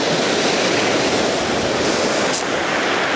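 Ocean waves roll onto Southsea beach at sunrise, a loud, steady wash of surf noise with a slight wind rumble, continuous and close with no voices.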